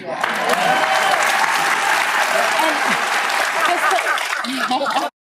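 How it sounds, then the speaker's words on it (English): A television studio audience on The View breaks into loud, sustained applause with some cheering mixed in. The clapping holds steady for about five seconds, then cuts off abruptly. "The applause signs just came in."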